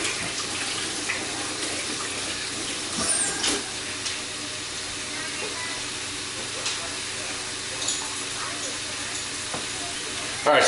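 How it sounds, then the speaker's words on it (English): Ground beef browns in a pan with a steady, even sizzle that holds for the whole stretch, with a few faint clinks and stirring sounds along the way. "we're going to let that brown up"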